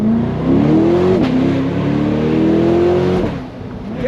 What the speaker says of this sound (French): on va se faire une petite accélération là